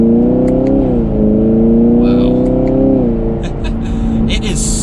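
A 2021 Chevrolet Camaro 2SS engine pulls hard from inside the cabin, its steady droning tone dipping as it upshifts smoothly, with someone talking over the engine noise.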